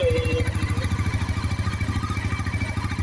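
A Pulsar NS400 motorcycle engine idles steadily nearby, its rapid even pulsing thump continuing throughout with no voices.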